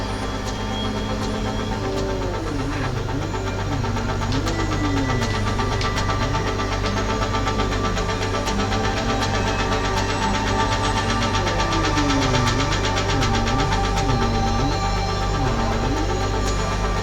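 A car in the video game MindsEye driven hard, its engine droning steadily and loudly throughout with wavering pitch sweeps as it accelerates and shifts, with no talk over it.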